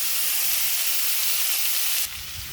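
Okra frying in hot oil in a pan before mustard paste goes in, a steady, loud bright sizzle that drops to a softer hiss near the end.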